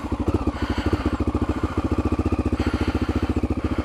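A motorcycle engine runs steadily, not yet warmed up, with an even, fast thumping rhythm that carries on unbroken, close and moderately loud with no talk.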